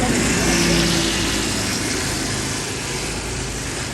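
A no prep race car engine, newly finished, runs loud and steady, a dense broadband roar with low rumble that eases slightly toward the end, with no clear talk over it.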